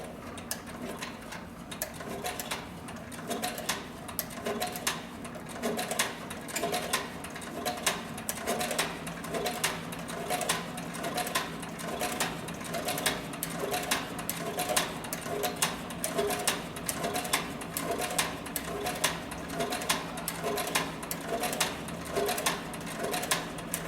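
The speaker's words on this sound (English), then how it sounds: "got 4 layers of this very heavy saddle skirting leather. I'm just going to increase my stitch length just a little bit." Sewing machine stitching through four layers of heavy saddle skirting leather, a steady mechanical clatter of rapid needle strokes running continuously and fairly close, with no talking.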